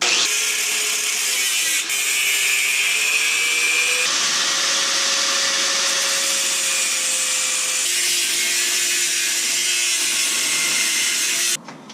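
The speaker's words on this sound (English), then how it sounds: "Grinder's gonna go right about like so. Just cut that thing off" An angle grinder cuts off a part on a GMC Sierra during repair of the air injection valve, giving a loud, steady high-pitched whine with shifting tone that runs almost continuously and stops abruptly near the end.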